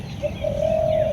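A dove cooing in a tree outdoors gives one soft, sustained low coo, fairly clear over faint background ambience.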